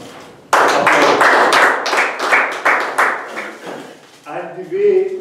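A meeting audience breaks into sustained hand clapping, dense and fairly loud, lasting several seconds before fading as a voice begins to speak.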